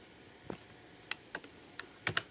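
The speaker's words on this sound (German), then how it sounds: "Und jetzt drücke ich einfach die Tastenkombination, die ich haben will." A handful of separate key presses on a computer keyboard while a shortcut is entered, about six crisp close clicks spaced irregularly, two landing in quick succession at the end, with no talk.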